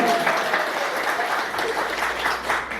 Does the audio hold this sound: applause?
yes